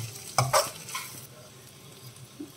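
Garlic mutton keema with homemade garam masala frying in a pan, a few loud stirring scrapes early on, then a steady soft sizzle with occasional light clinks.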